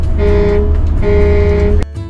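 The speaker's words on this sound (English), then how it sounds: "Got to hit that air horn every single time." Two loud, blaring air horn blasts in quick succession, the second cut off abruptly, harsh and close.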